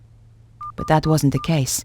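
Keypad beeps as a combination is entered in the video game Broken Sword: The Sleeping Dragon: one short, clear beep, then a couple more brief tones partly masked by a voice speaking over them.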